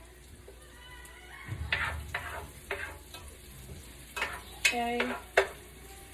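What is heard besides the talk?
onions frying in butter in a pan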